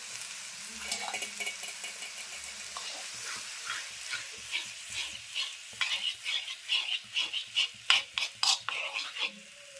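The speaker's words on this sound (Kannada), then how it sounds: "ಮೊಸರು ಚೆನ್ನಾಗಿ ಈಗ ಬಿಸಿ ಆಗಬೇಕು." Curd heating in an iron pan while being stirred, faint sizzling that turns into rhythmic scraping strokes growing louder and quicker toward the end, close by.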